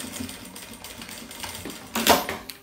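A sewing machine stitches bias binding onto a shoulder bag, a close, steady mechanical whir with a sharper, louder rattling burst near the end.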